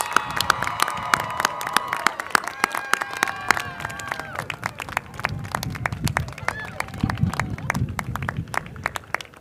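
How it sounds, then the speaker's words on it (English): A college commencement audience for the class of 2020 and 2021 gives sustained, enthusiastic applause, dense crowd clapping with scattered cheers and a faint hum of voices throughout. "Let's give the class of 2020 and the class of 2021 one more round of enthusiastic applause"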